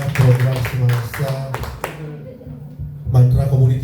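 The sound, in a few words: audience applause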